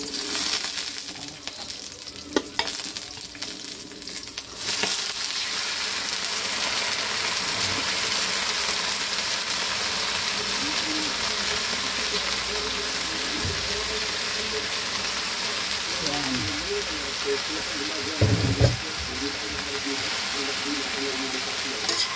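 Taro runners (takway) sauté in a hot pan with onion, bay leaves and seeds for an adobo, giving off a continuous sizzle and crackle with occasional scrapes and clinks of stirring, steady and close throughout.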